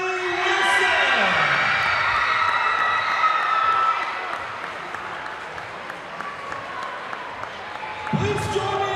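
A crowd at a Pulaski County High School basketball homecoming claps steadily for the crowned homecoming queen, filling the gym with sustained applause while a voice speaks over it and occasional cheers rise.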